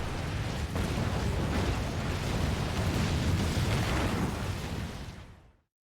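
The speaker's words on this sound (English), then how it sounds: "Explosions." A continuous roar of rumbling explosions and crackling blasts from the video game Final Fantasy XIV fills the scene, loud and dense, before cutting off abruptly near the end.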